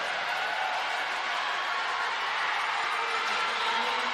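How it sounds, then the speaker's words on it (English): A large crowd at a university track and field national championship, a steady, loud roar of cheering voices sustained throughout without a break. "You can hear the excitement in the crowd."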